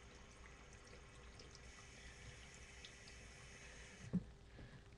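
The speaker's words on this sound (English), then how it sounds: "wash off your brush with a lighter pressure water" Light-pressure tap water runs steadily as a paint brush is rinsed, a soft continuous splash with a brief louder clunk near the end.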